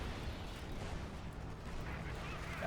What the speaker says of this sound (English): Field guns joining in as well